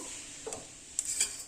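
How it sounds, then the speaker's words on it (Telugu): Sesame and poppy seeds dry roast in a pan with a faint steady crackle, broken by a few sharp clicks of a spoon scraping the metal. "ఒక 30 సెకండ్స్ మనకి చిటపటాని సౌండ్ వస్తాయి"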